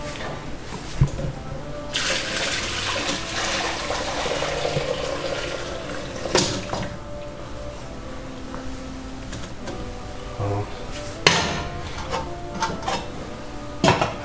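Tap water running in a home kitchen while preparing chicken dayay, a steady close rush with occasional clatters and knocks of pots, broken by louder splashing bursts.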